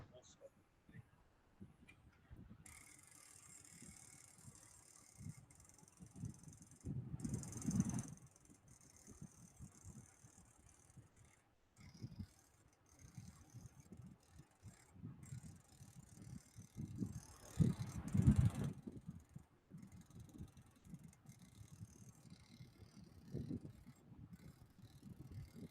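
A daisy wheel printer at work in a lab, rattling and clattering mechanically in bursts with pauses between, and voices heard at times.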